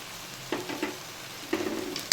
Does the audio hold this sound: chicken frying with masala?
yes